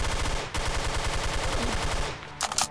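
Rapid automatic gunfire from an enemy weapon in a catacombs shooter game, a sustained rattling burst of evenly spaced shots that briefly cuts out and resumes, ending with a couple of sharper reports.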